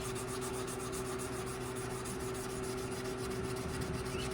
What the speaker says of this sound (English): So I use WD-40 on the sandpaper, and then we just nice, flat, smooth, go back and forth.